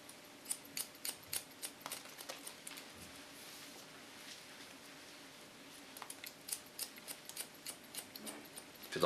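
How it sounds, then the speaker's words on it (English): Hairdressing scissors snip through hair during a pixie cut with a point-cutting technique, a close, quiet run of crisp, rapid clicks in irregular bursts, with short pauses between them. "die schaar. Knip, knip, knip."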